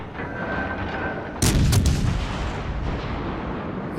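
HMS Warspite battleship's main guns fire in World of Warships Legends, one heavy booming salvo with a sharp crack and rumbling tail over low background noise.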